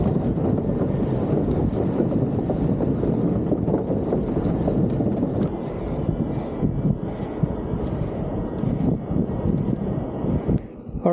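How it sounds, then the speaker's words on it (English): Strong wind buffets the microphone during a ride on a Himiway A7 Pro e-bike on a windy day, a loud, continuous roaring rumble that dips slightly partway through. "it's a little windy today"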